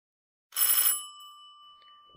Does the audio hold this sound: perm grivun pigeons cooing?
no